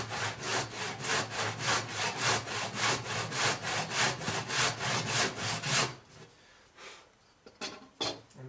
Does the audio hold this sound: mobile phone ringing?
no